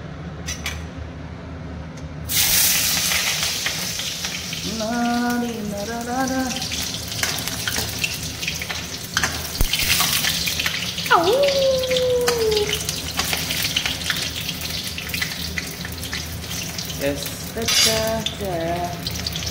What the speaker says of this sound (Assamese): কেৰাহীৰ পৰা গৰম উঠি গৈছে তো এতিয়া ধুনীয়াকৈ পিঁয়াজ কেইটা পেলাওঁ